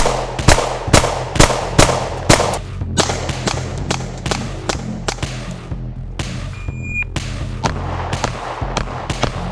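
A Glock 26 subcompact pistol fires rapidly at a shooting range, a string of about fifteen sharp, loud cracks in quick bursts, each with a brief echoing tail, and no voices.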